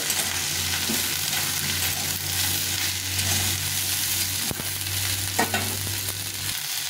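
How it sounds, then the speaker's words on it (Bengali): Eggplant frying with potatoes in a pan for a small-fish (morola) curry, a steady close sizzle with stirring scrapes throughout and a couple of sharper clatters near the end. "এখন বেগুনগুলো দিয়ে দেবো। বেগুনটা কিন্তু আলুর সঙ্গে ভেজে নেব।"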